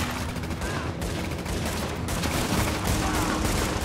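Pistol and other weapons fire in The Division on PS4 during a co-op siege mission, a dense, continuous barrage of shots close and loud throughout, with several rapid volleys in succession.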